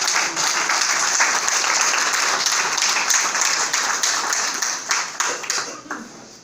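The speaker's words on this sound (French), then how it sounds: "Je demande à l'auguste assemblée de l'applaudir." A formal assembly breaks into dense, steady applause that stays loud and even for several seconds before tapering off near the end, with no voices over it.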